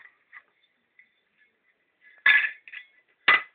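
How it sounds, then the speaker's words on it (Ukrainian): A small hammer taps a press-fitted cover off a vacuum cleaner motor during disassembly: a few light metallic ticks, then two sharper, louder knocks, close up with no talking. "акуратненьким гарненьким молоточком ми її акуратненько знімаємо"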